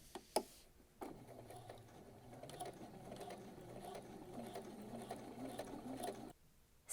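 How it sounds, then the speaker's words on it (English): A sewing machine runs steadily for about five seconds, stitching fabric for a girl's dress from a McCall's pattern. A brief mechanical clack comes before it and a short stop after, with no talking. "I'm just going to stitch up until I get to the other side."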